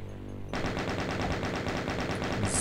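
Heavy weapons open up in the Doom Inferno episode, a sudden loud stream of rapid automatic fire that starts after a short quieter lead-in and keeps going without pause.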